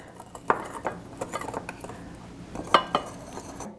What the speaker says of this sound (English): I need to whisk those in